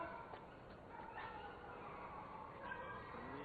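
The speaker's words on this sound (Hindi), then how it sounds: "ये जानवर भौंक रहे हैं" Dogs bark and yip at night, faint and somewhat distant, in a few scattered bursts over a low, hissing background.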